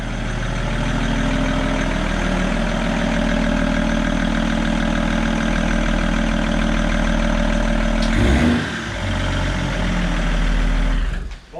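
A Toyota FJ75 Troopy with a swapped M57 diesel engine idles with a steady, loud low rumble, then briefly revs and drops back before settling again, heard close up with no talk.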